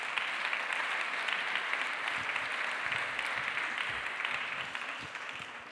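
A large audience applauds continuously, a dense, even roar of clapping heard somewhat distantly, holding steady before tapering slightly toward the end.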